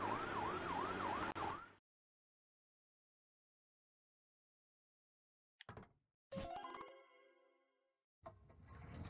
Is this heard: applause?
no